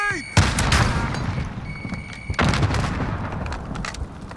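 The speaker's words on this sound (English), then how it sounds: "Throwing grenade." A thrown grenade bursts in the Modern Warfare Warzone battle royale, with sharp blasts and gunfire cracks in two loud bursts over a few seconds, followed by ringing echo and debris.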